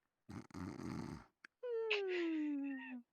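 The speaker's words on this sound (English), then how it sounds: "She's just snoring over there." A woman snoring close by, a long rasping inhale followed by a quieter, gliding nasal exhale, each breath drawn out over a second or more in a quiet room.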